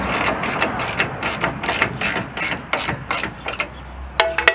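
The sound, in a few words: ratchet socket wrench turning 11 millimeter nut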